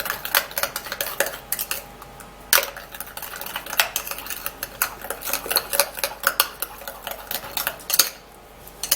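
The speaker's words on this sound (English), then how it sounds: "when you're putting baking soda in your treatment just like this" A spoon clinks and scrapes against a bowl while stirring baking soda into a homemade skin treatment made with Vaseline, producing a steady run of close, sharp metallic taps and scraping with no talking.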